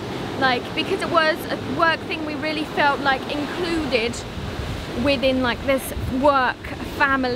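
Loud ocean waves breaking at Galle Face on the Colombo seafront, a steady surf roar running beneath someone talking continuously at close range.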